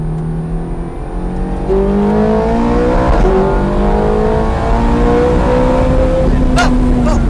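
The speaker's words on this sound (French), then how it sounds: "on a entendu le moteur qui s'emballe" Ferrari F430 Scuderia engine heard from inside the cabin, loud and close, with rising and falling revs as the gears drop and a sharp blip near the end.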